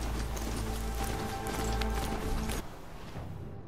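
Galloping mount in the video game Horizon Zero Dawn, hooves clip-clopping in a quick steady rhythm, close and fairly loud, breaking off abruptly near the end.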